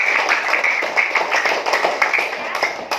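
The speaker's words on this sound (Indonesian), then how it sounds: "tepuk tangan dulu buat yang sudah jawab" A small group of students claps in a classroom, with quick irregular hand claps close by and a voice mixed in briefly.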